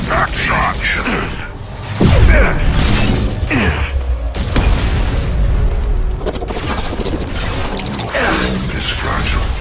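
Mass Effect 2 impact shot weapon blasts in combat, a heavy boom at about two seconds followed by continuing crackling game action, dense and loud, with voices speaking throughout.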